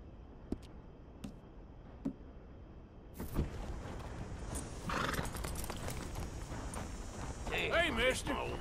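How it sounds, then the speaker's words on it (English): A horse neighs and its hooves clip-clop in a Western-style scene, with a few sharp knocks first and then a steady, fairly close hoof rhythm building to a loud whinny near the end, while voices talk over it. "My old horse."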